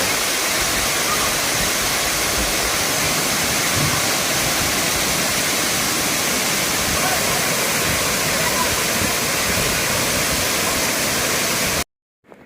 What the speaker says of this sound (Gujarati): ધોધમાર વરસાદને કારણે નદીઓ જીવંત બની છે અને પહાડો પર ઝરણા વહેતા થયા છે